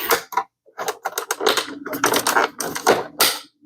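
Plastic tabs are pushed out to free the back plate of a C43 AMG speedometer, giving a close, irregular series of sharp clicks, snaps and creaks in quick bursts.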